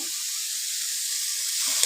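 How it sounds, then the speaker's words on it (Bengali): Greens sizzle steadily and loudly in a hot kadai as water is added, a continuous frying hiss with no talking. "এবার আমি জল ঢেলে দিচ্ছি একটু"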